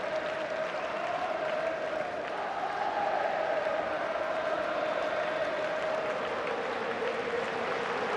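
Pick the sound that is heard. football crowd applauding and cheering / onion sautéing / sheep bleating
football crowd applauding and cheering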